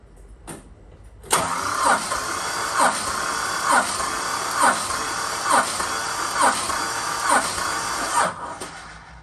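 The starter cranks a Valiant Charger VH Hemi 265 six-cylinder engine during a compression test, with about eight even, rhythmic turns over a continuous whine, close and loud.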